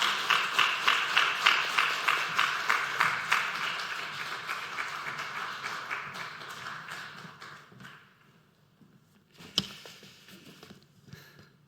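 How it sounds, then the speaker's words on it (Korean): A church congregation at a Wednesday worship service applauds warmly, with dense rhythmic clapping that starts strong, gradually fades out over several seconds, then leaves a quiet room with a single sharp knock. "뜨거운 박수로 영접하도록 하겠습니다"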